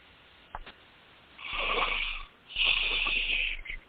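A person yawns twice, close and alone, each a long drawn-out breathy exhale with a short pause between, preceded by a couple of faint sniffs.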